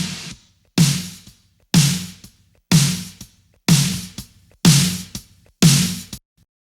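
Snare drum with heavily squashed parallel 1176-style compression blended in, struck seven times at a steady, even pace; each hit is loud and close with a bright crack and a sustained, lengthened tail, no voices.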